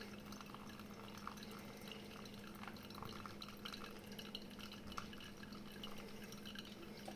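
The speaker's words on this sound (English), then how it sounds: "We're now going to add up until about 100, 160 to 180 grams worth of water in a circular, relatively slow motion." Hot water poured slowly in circles over light-roast Colombian coffee in a V60 dripper, a steady soft trickle and patter of liquid lasting throughout, close and alone with no talk.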